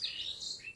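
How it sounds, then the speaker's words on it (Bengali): Bird chirps in a quiet village, a short run of high, clear calls over a soft, still background. "পাখির ডাক আপনারা সব সময় শুনতে পারবেন।"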